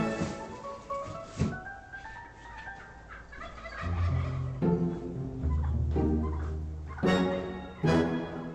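Turkeys gobble in several loud, rapid warbling bursts near at hand on a farm, calls overlapping and repeating every second or so.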